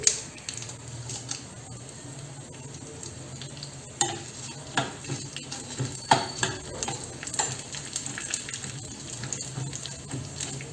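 Dried red chilies and chana dal sizzle in hot tempering oil in a small kadai, a soft steady crackle broken by scraping stirs and light clinks, fairly quiet, with no talk.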